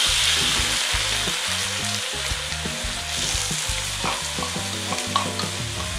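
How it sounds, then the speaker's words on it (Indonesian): Chopped onions sauté in a pan for a spaghetti-and-meatballs sauce, giving a loud, steady sizzle with repeated spatula scrapes and stirring knocks throughout, no talking. "Kita tumis dulu bawang bombaynya sampai harum dan matang."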